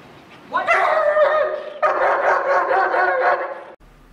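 A protection dog barks at a stranger in a public place, two long, loud, close bursts of rapid barking with a brief pause between them, then silence.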